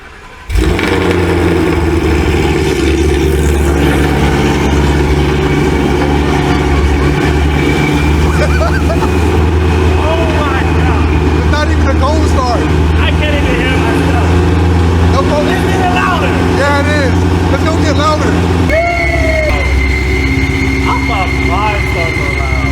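A loud car engine with its exhaust opened idles steadily with a deep low rumble throughout, while people talk and exclaim over it; the tone shifts slightly near the end.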